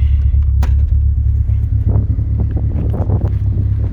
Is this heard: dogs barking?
no